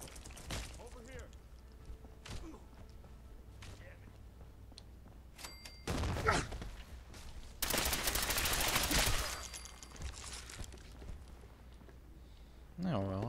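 Gunfire in Fallout 4 at the castle, scattered single shots and then loud, sharp bursts of rapid fire, mixed with a person talking.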